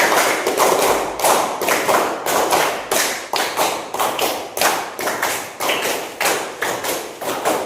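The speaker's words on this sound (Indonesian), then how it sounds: "Beri mereka tepuk 5 kali." A classroom of students claps together in a repeated rhythmic pattern, each burst of hand claps landing in regular groups, loud and close, with no voices over it.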